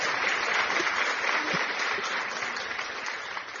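Continuous crowd clapping fills the space, thick and even, tapering only slightly toward the end.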